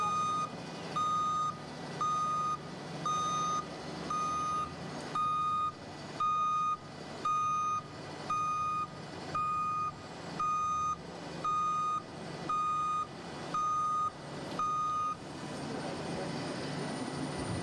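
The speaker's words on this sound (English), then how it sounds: "the backup alarms on this truck are sounding, whether it's going up or whether it's going down," Backup alarm on a Super Products Mud Dog truck beeps in a steady regular series of about fourteen tones as the tailgate moves, over a low mechanical hum, then stops.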